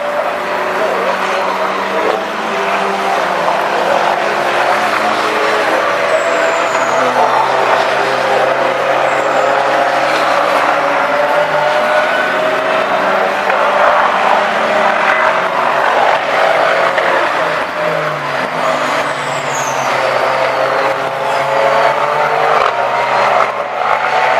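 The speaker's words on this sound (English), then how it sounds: "A car going full throttle through the old hairpin." A GT or Formula 3 race car at full throttle through the old hairpin at Donington Park, a loud sustained engine howl with shifting pitch as it passes and continues close by.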